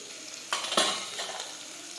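Ground spices and turmeric hit hot oil with garlic chutney while a spoon stirs the pan, a soft sizzle under a couple of brief scraping stirs and light metallic clinks, with no one talking.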